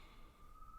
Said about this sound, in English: there are so many sirens going off